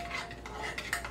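A spoon stirs a honey wing sauce heating in a pan, making a soft, continuous scraping swirl with light clinks against the metal, close and quiet.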